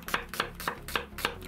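Onion being finely chopped with a knife on a cutting board, five crisp evenly spaced knocks close up, with no talk.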